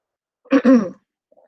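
A single short throat clearing, close and fairly loud, a rough harsh burst lasting under half a second, followed by quiet.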